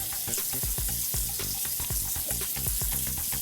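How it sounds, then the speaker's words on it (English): Water splashed onto a freshly shaved face in quick repeated handfuls, a close, wet slapping and sloshing rhythm with no talk. "Let me rinse that off my face here."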